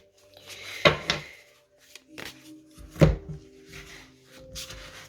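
Phalenaria oracle cards being shuffled by hand, giving a few sharp, close riffling and tapping bursts with quieter rustling between them and no talking.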